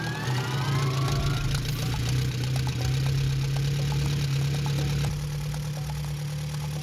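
A 1928 Henderson Deluxe inline four-cylinder vintage motorcycle engine runs steadily at idle with a low, even drone and faint knocking, close and loud throughout with a slight shift in tone near the end.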